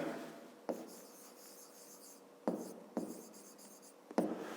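Pen or chalk strokes write out a math equation for a fifth-grade exercise: a few short scratching bursts separated by brief pauses, close and fairly quiet.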